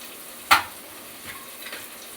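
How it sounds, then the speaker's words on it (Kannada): Tomato fries in a pan for palak chicken biryani, giving a soft steady sizzle, with one sharp utensil clatter near the start and fainter stirring scrapes after it. "ಮತ್ತು ಟೊಮೆಟೊ ಫ್ರೈ ಆಗ್ತಿದೆ"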